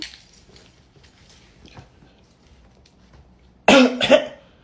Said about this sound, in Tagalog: O, Totoy, bakit inuubo ka?